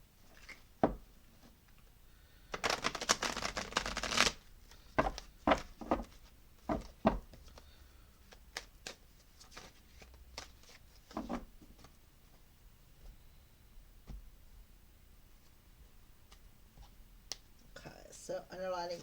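Crow Tarot cards are shuffled by hand, giving soft riffling flutters and a rapid burst of card slaps, with scattered taps and clicks between quiet pauses.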